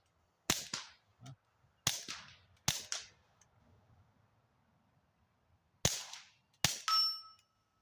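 Suppressed gunshots from a Silencerco Sparrow SS firing subsonic ammunition at a range: five sharp, muted cracks in an irregular rhythm with short gaps between them, the final shot followed by a brief metallic ring.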